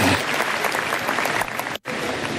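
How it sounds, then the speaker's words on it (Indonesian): Seminar audience bursts into steady, dense applause, continuous clapping at fairly even volume with a short dropout near the end. "Boleh tepuk tangan?"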